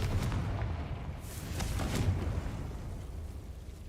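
A Confringo fire spell in a Harry Potter video game bursts with a few soft, muffled booms and whooshes over a low rumbling background, fairly quiet and fading toward the end.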